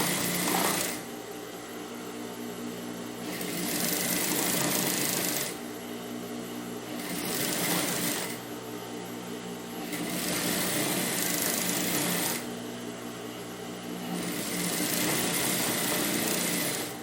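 A sewing machine stitching elastic seams on children's pajamas runs in steady buzzing bursts of about two to three seconds, separated by brief pauses, close and continuous without talking.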